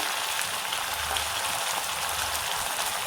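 Garlic, ginger, dill leaves and green chillies fry in hot oil with mustard seeds, cumin and urad dal in a pan, giving a steady, dense sizzling hiss throughout with no pauses.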